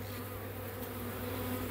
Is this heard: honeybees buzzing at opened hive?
yes